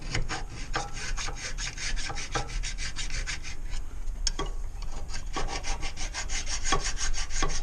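A hand file rasps raised metal off the flange of an AR45 pump. It makes a series of rough scraping strokes in a steady back-and-forth rhythm, close and alone.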